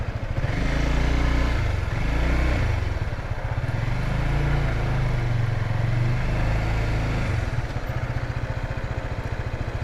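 A motorcycle engine runs loud and close, its pitch rising and falling through gear changes as it decelerates, with a steady throbbing rumble throughout.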